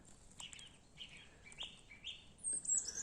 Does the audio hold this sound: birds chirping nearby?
yes